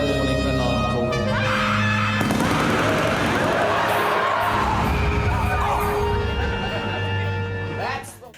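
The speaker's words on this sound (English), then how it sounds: "The remastered edition changes the sound effect of the alarm call to include screaming and gunfire" A Red Dwarf early morning alarm call effect from the remastered edition, a loud dense wall of screaming and rapid gunfire bursts that runs continuously before tapering off at the end, with speech mixed in.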